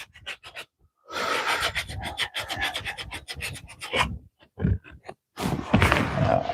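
Hand sanding on a farm, with rhythmic raspy scrubbing strokes, some in quick bursts and others in longer continuous runs, close and fairly loud, broken by short pauses.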